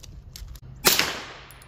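A single sharp, loud gunshot from a 9mm carbine firing MagTech ammunition cracks out after faint background noise, followed by a short decaying echo.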